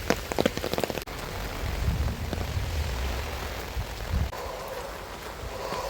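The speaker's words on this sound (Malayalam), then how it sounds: "പെട്ടെന്ന് മഴ പെയ്തു." Sudden rain pours onto surfaces outdoors as a dense, steady hiss, with a burst of quick drip patter in the opening second and no talking.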